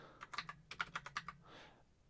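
Typing on a Mac computer keyboard, a short run of about eight quick, close key clicks in an uneven rhythm, followed by a softer rustle, faint and with no voices.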